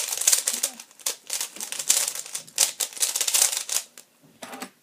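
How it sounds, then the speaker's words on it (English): A 3x3 puzzle cube with corners cut at 45 degrees on all sides, turned rapidly in dense bursts of plastic clicks and clacks, close and fairly loud, pausing briefly near the end. "So basically I just corner cut 45 degrees on all sides."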